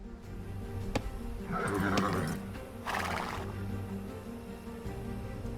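A scout cavalry horse in Age of Empires II: Definitive Edition neighs twice in quick succession over steady hoof clip-clops and a low background hum.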